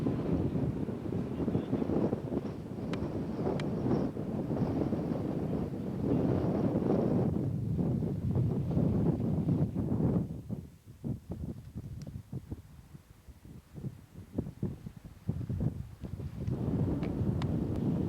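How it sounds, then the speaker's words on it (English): Strong wind blowing outdoors, buffeting loudly and steadily for the whole stretch, with gusty roaring that dips briefly midway before picking up again. "Boy, it's just as windy as all get out here"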